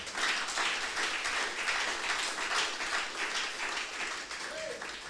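Applause from a church congregation acclaiming Jesus during a sermon, a steady, dense clapping wash that holds loud for the whole stretch with no voices on top.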